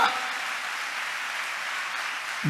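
A church congregation claps together at a sermon in a steady, even burst of applause, filling the room at moderate distance for a couple of seconds.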